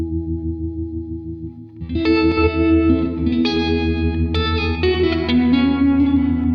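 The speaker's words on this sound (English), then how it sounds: "Now I'm going to go tremolo into reverb." Electric guitar run through a Fender tremolo pedal into a reverb pedal: a soft held chord, then louder strummed chords ringing out with a washy, pulsing, reverberant tail, played alone without speech.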